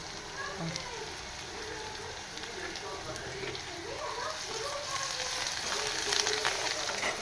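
A tempering of mustard-seed oil with coriander leaves and turmeric sizzling in a pan, a soft steady hiss with light crackles, heard fairly faintly, with a voice speaking quietly over it.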